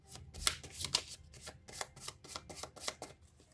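Cards riffled and shuffled in a rapid run of crisp flutters and slaps, close by, repeating several times with no talking.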